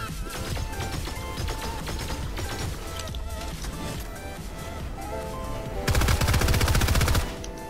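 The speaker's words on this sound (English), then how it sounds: "There's someone shooting, someone right there, where I'm at." Rapid bursts of gunfire in a Fortnite Build Mode trio match, dense and continuous, with a louder, heavier volley near the end, mixed with game music and effects.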